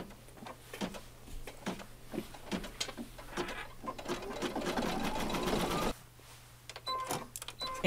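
An embroidery machine stitches a zigzag heart onto a placemat in the hoop, with a steady rapid needle chatter over a low motor hum, close and continuous with brief pauses.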